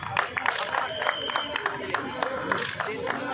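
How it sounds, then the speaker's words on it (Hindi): An audience at an outdoor public event claps, scattered hand claps crackling over a crowd murmur while a voice speaks over them. "एक बार ताली हो जाए।"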